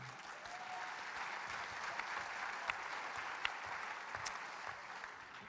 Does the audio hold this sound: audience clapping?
yes